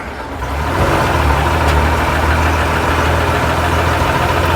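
A 1958 Leyland PD2 double-decker bus engine runs steadily during a double-clutch change back to second gear, a loud, close diesel drone with a low throbbing rumble that swells slightly and then holds even.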